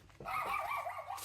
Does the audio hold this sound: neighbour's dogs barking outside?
yes